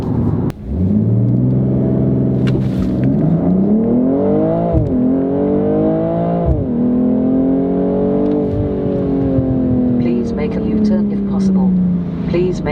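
A BMW M2 engine revs hard through several gear shifts, its pitch climbing and then dropping with each change, loud and close and continuous throughout.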